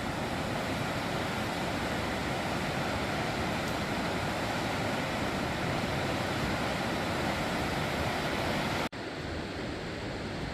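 A steady, loud roar of rushing river water below snowy banks at Thurmond, West Virginia, fills the whole clip, broadband and unbroken, with a brief dropout near the end.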